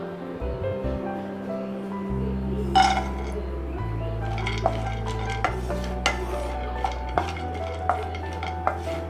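Crushed cashews dropped into hot ghee in a pan for wheat halwa, giving a soft sizzle with repeated clinks and scrapes of a utensil against the pan, close and steady throughout.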